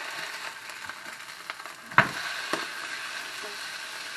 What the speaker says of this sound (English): let's check these things and see if they're seared